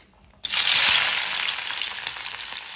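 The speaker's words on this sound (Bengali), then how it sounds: "দুটো শুকনো মরিচ, দিয়ে দেবো একটু পাঁচফোড়ন, দিয়ে দেবো পেঁয়াজ," Dried chilies, five-spice seeds and onions hit hot oil with a sudden loud burst of sizzling that stays strong and crackling, gradually easing slightly.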